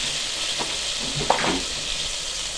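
Garlic ginger paste fries with spices in a pan as a steady, close sizzle, with a few soft stirring scrapes over a couple of seconds and no talking.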